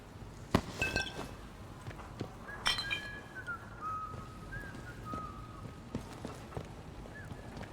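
A character whistles a tune in the video game Atomfall: thin, wavering whistled notes drift in and out over footsteps, soft clinks and background game ambience.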